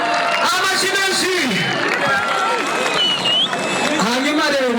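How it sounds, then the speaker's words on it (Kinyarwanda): A big live crowd at a concert in Nyagatare claps and cheers steadily, filling the space while a voice speaks loudly over the noise throughout. "Amashyi kuri Primus Guma Guma, amashyi menshi."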